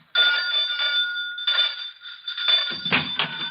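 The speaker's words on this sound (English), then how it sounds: "Don't keep ringing the bell, son." A doorbell rings in a 1949 radio drama about firefighters, a bright electric bell sounding in three sustained bursts, close and loud, with no talk over it.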